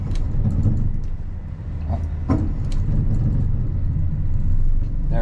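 A Hewescraft boat with an F150 outboard engine started by key on the water, a steady low rumbling drone running continuously and close, with a few faint clicks and knocks over it.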